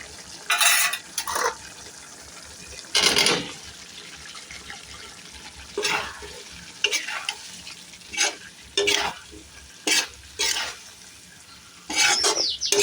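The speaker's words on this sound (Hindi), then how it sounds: "अब ये गाढ़ा हो गया है और आलू अब इसमें हम डाल देते हैं।" Potatoes frying in a thickened masala for an aloo and dried pea sabzi are stirred in a pan, with repeated bursts of spoon scraping over a soft, continuous sizzle.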